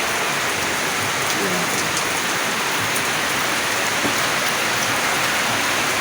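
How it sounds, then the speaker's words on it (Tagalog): Heavy rain pours down steadily, a dense, loud hiss of drops hitting surfaces that never lets up. "ganito kalakas yung ulan"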